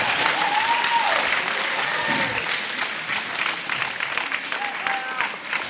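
A crowd cheers and applauds at a bouldering competition, the Queensland state titles, a broad, loud roar that swells early and carries on under a commentator's voice.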